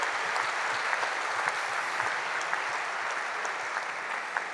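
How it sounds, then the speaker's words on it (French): An audience at a French public debate on housing policy applauds in a continuous, even wash of clapping, heard from moderately far away and holding steady with no voices. "Applaudissements"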